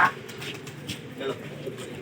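Pigeons at a rooftop pigeon-flying contest in Lucknow, with faint cooing and soft bird sounds under a steady murmur of people talking nearby.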